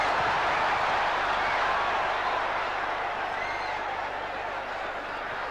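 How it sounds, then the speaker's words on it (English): Broad steady roar of a boxing arena crowd cheering and applauding at a Thomas Hearns vs Alfonso Hayman fight, loud and continuous, with the noise easing slightly toward the end. "The crowd loving it."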